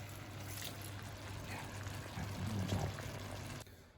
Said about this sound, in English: So now's the time when we do a little white wine shower.